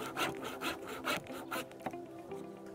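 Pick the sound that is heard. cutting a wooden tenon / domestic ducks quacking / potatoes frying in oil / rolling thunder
cutting a wooden tenon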